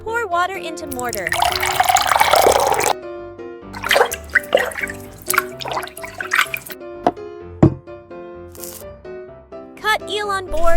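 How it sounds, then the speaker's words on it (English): Water pours and splashes into a small mortar in a miniature kitchen, with a bright burst of pouring early on followed by scattered drips and sloshes, set against prominent tonal background sounds. "Pour water into mortar."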